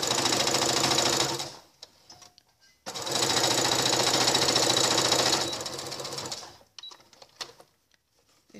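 A sewing machine stitches the lining of an insulated lunch bag at a 2.5 stitch length, including a backstitch: a loud whirring burst, a brief pause, then a longer second run that tapers off into a few faint clicks.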